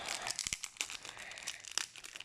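A taped football card pack is torn open up close, with quick crinkling and tearing of the wrapper in short bursts, faint and alone.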